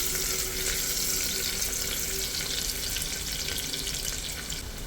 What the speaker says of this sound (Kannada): ಈರುಳ್ಳಿ 1 ನಿಮಿಷ ಫ್ರೈ ಆಗಲಿ.